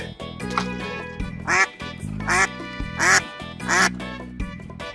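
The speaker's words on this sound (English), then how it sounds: "Duck." A toy animal sound of a duck gives four loud, nasal quacks at an even pace, each standing out over steady background music.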